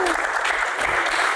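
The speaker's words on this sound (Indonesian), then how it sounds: "Tepuk tangan, luar biasa." Brief burst of audience applause at a politics Q&A event, dense steady clapping from a crowd lasting just over a second.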